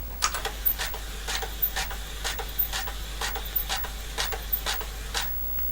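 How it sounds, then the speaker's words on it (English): An HP85B computer's built-in thermal printer prints text lines, a series of regular sharp buzzing ticks about twice a second over a steady low hum, close and alone. "It should just print hello world 10 times on the printer."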